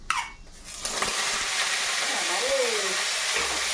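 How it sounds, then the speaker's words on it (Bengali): Cut potatoes hit hot oil with panch phoron spices in a home kitchen, a sudden sizzle that settles into a steady loud frying hiss, with someone talking briefly over it. "এবারে কাটা আলুগুলো একটু ভাজবো।"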